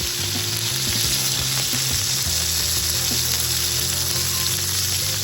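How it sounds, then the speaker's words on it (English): Meat browns in a hot pan for a pizza-bar dish, giving a steady, loud, continuous sizzle and crackle of frying fat that runs the whole time with no voices over it. "We're browning our meat here. We're just going to let that get nice and brown on the other side."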